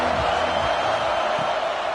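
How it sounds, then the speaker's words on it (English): Stadium crowd noise in a college football video game, a steady roaring wash of cheering fans filling the background under an announcer's voice. "listen to this crowd coming through"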